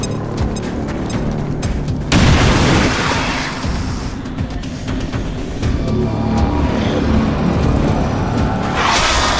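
A grenade goes off in the tactical strategy game XCOM 2, a sudden loud blast that rolls into a long rumbling tail over a busy, noisy game backdrop.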